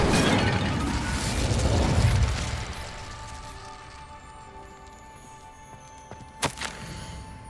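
Incendio fire spell cast in Hogwarts Legacy: a broad whooshing, crackling burst of flame that swells over two seconds, then fades into a lingering hum, with a couple of sharp pops near the end.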